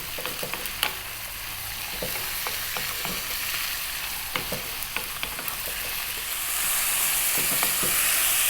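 Thinly sliced boneless, skinless chicken stir-frying in a pan, a steady close sizzle with repeated clicks of a utensil stirring, the hiss swelling louder near the end.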